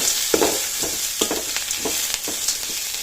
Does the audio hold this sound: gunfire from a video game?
no